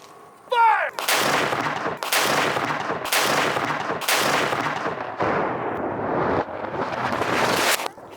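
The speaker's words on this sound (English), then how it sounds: "the gunpowder will explode, sending your projectile down range" Naval cannon fired with gunpowder: a series of loud, booming blasts roughly once a second, each with a long rumbling tail, following a brief whistle-like tone at the start.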